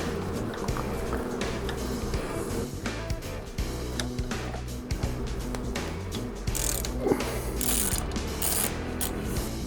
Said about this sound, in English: taking the bolts out.